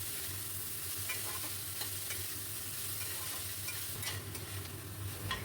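Vegetarian paneer rice ingredients sizzle steadily in a pan while being stir-fried, with a constant frying hiss and faint scraping stirs, quiet and close, no talk.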